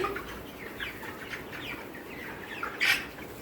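Chickens cluck and call in a poultry farm shed, scattered calls over a steady low hum, with one louder, closer squawk near the end.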